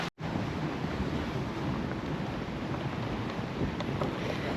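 Sea waves on the coast near Torremolinos, a broad steady wash of surf mixed with wind buffeting the microphone, continuous after a brief dropout at the start, with no talk.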